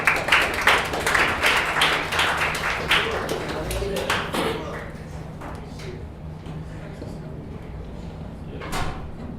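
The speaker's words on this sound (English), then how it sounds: "let's give George a round of applause." Audience applause greets a guest speaker at a spring 2019 business workshop, a dense burst of clapping that fades gradually to sparse claps and room murmur over several seconds.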